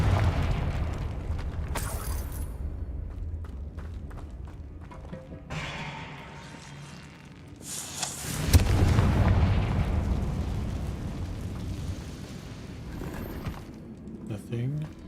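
Confringo fire spells exploding in the video game Hogwarts Legacy, a series of booming blasts and thuds, the heaviest burst around the middle, with a person talking over the game audio.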